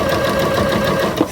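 Domestic sewing machine running steadily while stitching quilt fabric pieces for pinless curved piecing, a continuous close motor whir with needle rhythm and no talk.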